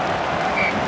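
A large stadium crowd in the Dream League Soccer 2016 video game, a steady dense roar of cheering and clapping filling the whole moment, with no voices above it.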